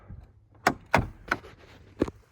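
Land Rover Series 3 door with completely seized hinges being forced, giving four sharp, loud knocks and bangs spaced unevenly over a couple of seconds, close by with no talking.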